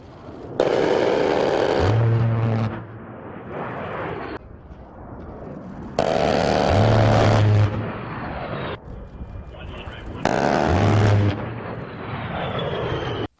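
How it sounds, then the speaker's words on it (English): An A-10 Warthog jet on a strafe run fires its cannon three times, each a long, loud, ripping burst of a few seconds that ends in a low roar of jet engine noise. "Here's a clip of an A-10 Warthog doing a strafe run."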